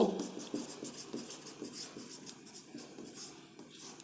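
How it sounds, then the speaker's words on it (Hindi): Chalk or marker strokes scratching across a classroom board during a physics lesson on the electric field of a charged wire, a steady run of short scraping strokes close by, with no voice over them. "तो यहां लिखेंगे"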